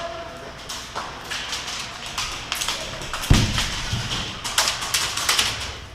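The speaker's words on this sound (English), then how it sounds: "A lot of firefight going on over here" Airsoft guns snap and crack in a firefight at a milsim city site, with rapid irregular shots, some near and some distant, and one heavier thud partway through.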